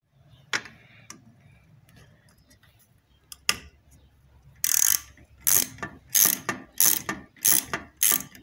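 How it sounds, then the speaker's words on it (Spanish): Screws are removed from a centrifugal water pump motor, with sparse clicks and scrapes first, then a run of rapid, close ratcheting bursts in an uneven rhythm with no talk. "voy a quitarle los tornillos para hacer la prueba"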